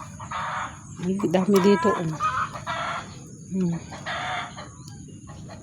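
Chickens in a backyard cluck and squawk noisily in repeated close bursts, with a rooster crowing through the middle, while someone speaks briefly over them.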